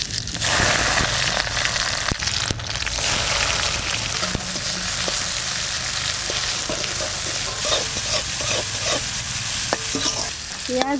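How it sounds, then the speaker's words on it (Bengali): Garlic and onion, with black cumin and mustard seed, fry in a pan with a busy, crackling sizzle while a utensil stirs and scrapes throughout, loud and close, with no talking. "রসুন টসুন সব ভাজা হয়ে গেছে"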